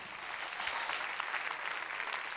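Studio audience clapping on a Cantonese singing competition show, a short burst of steady, close applause at even loudness.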